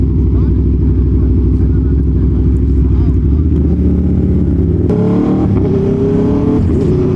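An Aprilia Tuono V4 1100 Factory motorcycle engine, a loud, close, continuous V4 drone that shifts pitch midway as the rider moves along, with a voice talking over it.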